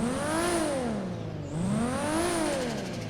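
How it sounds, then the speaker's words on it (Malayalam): Mahindra Scorpio in GTA 5 revving twice, each rise bringing a high turbo whistle that climbs and falls with the engine note, loud and close, no talking. "ആ ടർബോ വിസിൽ."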